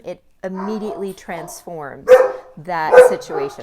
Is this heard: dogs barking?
yes